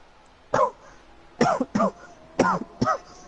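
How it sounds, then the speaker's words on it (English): A few separate coughs close to the microphone, one single then a pair, a pause, and another pair, with quiet between them. "Because I have a little bit of a cough."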